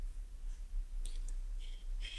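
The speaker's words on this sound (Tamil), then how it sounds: "டைப் பண்ணதுக்கு பிறகு சென்ட் ஓடிபி அப்படிங்கறத கிளிக் பண்ணுங்க." Mouse clicks on the Send OTP button of an Aadhaar number entry form: a few faint, sharp clicks spaced irregularly over a low steady background hum.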